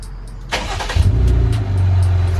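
Jeep Wrangler JL with a V6 and an aFe Rebel axle-back exhaust starts up, then settles into a steady, moderately loud low rumble close by, with no one talking.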